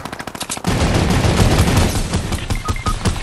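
Rapid automatic turret machine-gun fire in a video game, a dense sustained burst starting after a few separate shots and continuing loudly throughout without talk.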